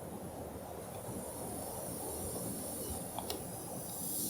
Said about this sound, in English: And that is another freight train.